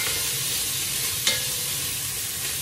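Sausage frying with a little olive oil in a pan for red beans and rice gives a steady close sizzle, with one brief stir or scrape near the middle and no voices.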